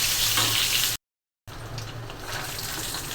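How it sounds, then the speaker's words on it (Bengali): An egg sizzles in a frying pan on a home stove, a steady bright crackle that cuts out for a moment before resuming at a similar level. "ডিমটা ভেজে নিচ্ছি।"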